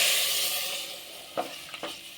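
Water poured into a hot pan of sizzling mango pachadi, a steady frying sizzle that fades slightly, then two or three short splashing hisses near the end.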